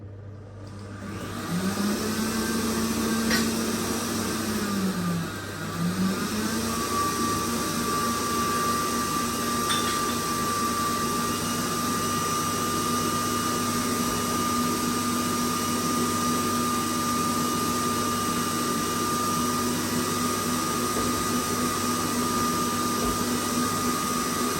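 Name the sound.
whisking eggs for chocolate sour cherry brownies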